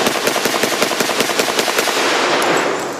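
A Glock pistol firing black powder cartridges in rapid succession, a fast rattling string of loud sharp shots with no pauses, ending after about two seconds.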